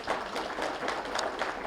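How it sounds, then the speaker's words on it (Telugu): An audience at a meditation gathering claps together, a soft, steady patter of many hands heard from a distance for a brief moment. "ఒకసారి వాళ్ళకు కూడా గట్టిగా చప్పట్లు కొడదాం."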